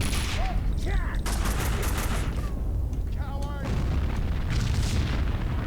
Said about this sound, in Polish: ale to wszystko wybucha